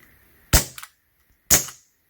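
A Glock 17 blowback CO2 BB pistol fires two sharp, close shots about a second apart, each crack followed by the quick clack of the slide cycling.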